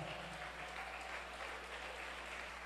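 A church congregation applauds during a sermon, a faint, even wash of clapping over a steady low hum, with no voices standing out.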